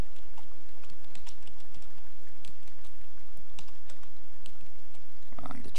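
Rapid computer keyboard typing during a game of Civilization IV with the Caveman2Cosmos mod, steady irregular key clicks, close and fairly quiet, with no voices.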